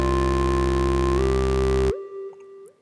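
A synth saw-wave bass drones under a low-passed square-wave lead that plays a slow melodic improvisation with a glide in pitch. The bass then cuts off and leaves the soft lead alone.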